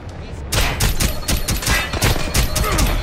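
Rapid gunfire from enemies in the stealth shooter Splinter Cell Blacklist, set in London, with dense bursts of shots crackling over one another almost continuously, loud and close, with a voice talking underneath.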